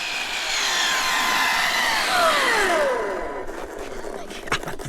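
The motor of an Arrma Felony RC car whines loudly and revs, its pitch sweeping down as it drives away and then fading, with a person talking near the end.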